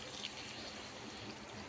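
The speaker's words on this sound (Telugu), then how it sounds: "ఒక హాఫ్ గ్లాస్ అంత వాటర్, టీ గ్లాస్ అంత వాటర్ని వేసేసుకొని" Faint, steady trickle of water poured from a tea glass into a tomato egg curry cooking in a pan, a soft continuous hiss with no talking.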